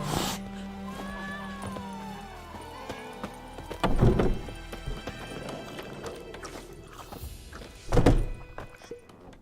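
A horse's hooves clip-clopping in The Witcher 3: Wild Hunt, steady mid-distance hoofbeats with a whinny early on and two heavy thumps, no talk over the top.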